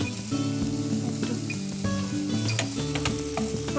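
Onions frying in a pan with a loud, continuous sizzle while a spoon stirs and scrapes through them, with occasional clinks against the metal.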